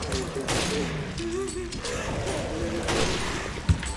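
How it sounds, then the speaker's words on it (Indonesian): Close-range gunfire in the video game Resident Evil: Revelations, a dense burst of shots and clattering weapon mechanics over game noise, with a voice talking over it throughout. "Dia nembak dari jarak deket dong."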